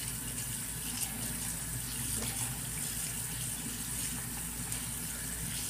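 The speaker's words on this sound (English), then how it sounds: "I'm gonna wash my hands." Water runs steadily from a tap as hands are washed beneath it, a constant close splashing hiss with no one talking.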